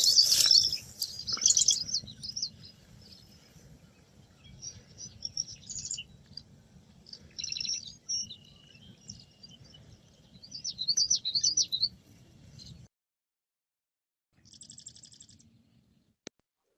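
Marsh birds released after banding give high, thin chirps and twittering calls in scattered bursts over a low outdoor rumble, ending in quiet with one last short call.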